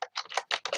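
Quick bursts of typing on a computer keyboard, several clustered keystroke runs separated by brief pauses, close and fairly quiet, with no voices.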